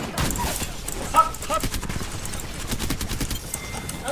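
Gunfire in the Apex Legends battle royale game, a dense clatter of rapid shots that runs throughout at fairly high volume, mixed with game effects and a voice talking over it.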